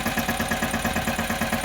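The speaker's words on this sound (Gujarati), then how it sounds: "ટ્રેક્ટર આવી ગયું છે ને મીડસ ઘઉં વાવવા" A tractor engine idles at a farm field where wheat is about to be sown, making a steady, rhythmic, close-up chugging pulse throughout with no voices.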